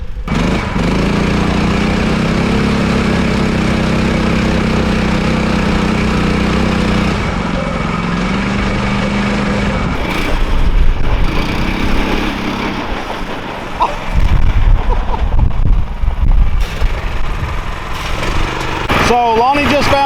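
A stock Predator-engined go-kart with a stock governor, 7.2 to 1 gearing and 23-inch tires revs steadily, then surges and sputters in uneven bursts as it struggles up a hill, loud and close throughout.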